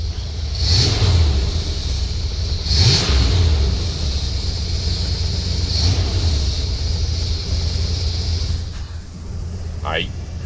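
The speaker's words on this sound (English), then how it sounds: "Motor sounds great." A 1979 Ford Pathfinder Quadravan 4x4 engine idles steadily with a low rumble and a few brief revs, heard close and loud throughout, with a faint voice near the end.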